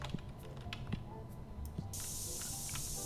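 A customer gets sprayed in TCG Card Shop Simulator: soft game clicks and taps, then a sudden loud, sustained hiss of aerosol spray in the final second.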